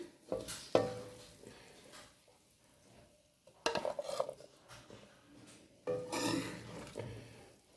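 Potato, pea and carrot sabzi being served out with utensils: three bursts of spoon scraping and clinking against a pot, separated by quiet pauses, close by and without speech.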